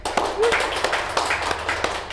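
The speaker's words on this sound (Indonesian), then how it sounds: "Beri tepuk tangan dulu yang meriah" Studio audience clapping to welcome a guest on a talk programme, scattered claps at an irregular rate mixed with crowd murmur, moderately close, with a voice faintly audible underneath.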